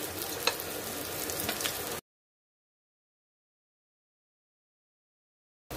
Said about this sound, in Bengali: বাকি কাবাবগুলো আমি একই প্রসেসে ভেজে নিচ্ছি